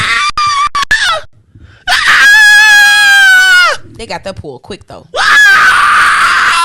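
Loud, piercing screams ring out in two long sustained bursts, shrill and tonal, separated by stretches of casual conversation between people talking.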